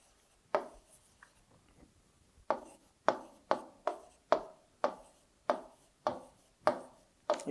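Numbers being written on a board during a maths lesson, a series of close, sharp chalk-like taps and strokes, one after a pause, then a steady rhythmic run of about a dozen marks.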